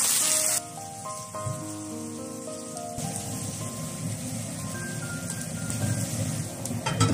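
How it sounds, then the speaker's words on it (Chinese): Boiling water poured into a hot pan of fried fish for soup, a loud burst of sizzling followed by a steady rushing, bubbling hiss, close, with faint tonal music over the first few seconds. "加开水，一次性加水。"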